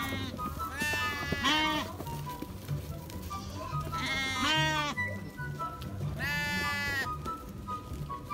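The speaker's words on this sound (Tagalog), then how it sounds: "Kambing." Goats bleating on a farm, three loud wavering calls spaced a few seconds apart over a busy backdrop of other livestock and faint voices.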